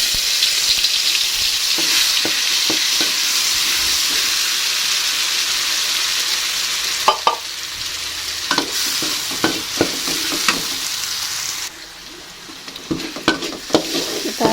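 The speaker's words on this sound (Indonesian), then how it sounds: "ini minyaknya sudah panas, langsung aja kita tumis bumbunya" Spice paste sautés in hot oil for chicken gizzards and livers, a steady loud sizzle throughout with intermittent scraping clicks of a stirring utensil, the hiss dipping slightly near the end.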